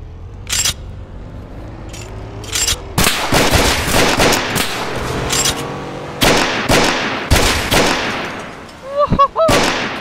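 Tec-9 fire in the South London 2 video game: several loud, sharp gunshots and short bursts spread across the clip, close and punchy, with game ambience between them.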